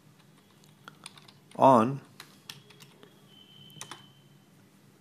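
Light, scattered keystrokes on a computer keyboard click quietly during JavaFX coding, with a short spoken word rising briefly over the tapping.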